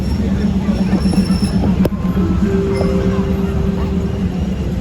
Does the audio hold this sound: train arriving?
yes